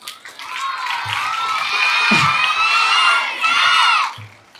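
School students cheer and chant together in a loud sustained crowd roar, many young voices shouting in unison over a few seconds, with scattered claps underneath.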